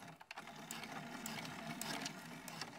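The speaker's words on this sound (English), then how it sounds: "At the machine here, I'm going to do a little back stitch at the beginning," A sewing machine stitches a short back stitch at the start of a purse seam, a faint close mechanical whir after a few soft clicks.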